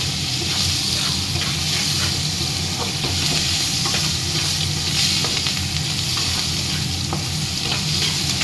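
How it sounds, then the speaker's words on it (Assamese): Onions fry in hot oil with whole cumin and bay leaf, giving a loud, steady sizzle with repeated stirring scrapes close by, continuous throughout. "মই এতিয়া তেলত গোটা জিৰা দি দিছোঁ, মই তেজপাত দি দিলোঁ, পিঁয়াজো দি দিওঁ,"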